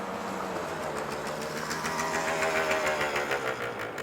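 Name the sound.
scooter pulling up and stopping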